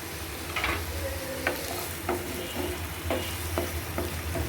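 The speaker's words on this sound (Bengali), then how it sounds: "পেঁয়াজ কুচি দিয়ে দিলাম, রসুন কুচি দিয়ে দিচ্ছি" Chopped onion and garlic fry in a pan, sizzling loudly up close while a utensil stirs and scrapes at a regular, unhurried pace, with no speech.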